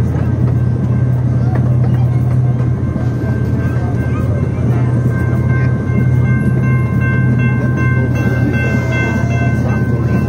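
Tulsa Zoo Railroad train running, a loud continuous rumble and hum close by with steady mechanical noise throughout, heard from aboard.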